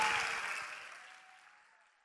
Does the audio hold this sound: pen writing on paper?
no